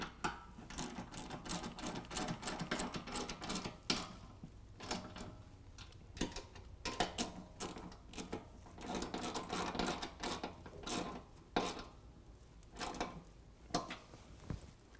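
Rapid ratcheting clicks come in quick bursts with short pauses as 13mm bolts are tightened on APS DS-Series nerf bars being fitted to a 2020 Ram 2500. The clicks sound close and fairly loud, with no talking.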